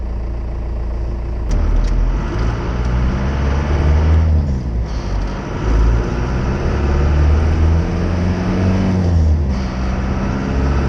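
A car engine runs steadily and fairly loud throughout, a low rumbling idle with slight swells in pitch, heard close and without talk.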